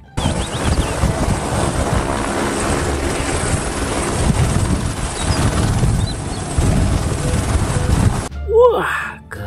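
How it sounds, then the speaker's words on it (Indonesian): A helicopter drones loudly and steadily with a dense, rumbling rotor and engine roar for most of the stretch, then cuts off abruptly near the end, leaving a brief quieter sound. "Wih, ada helikopter."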